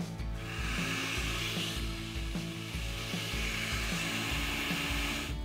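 A kitchen blender whizzes a smooth beef marinade laced with Worcestershire sauce, a steady loud motor drone with a slightly pulsing, churning texture that runs unbroken from start to finish.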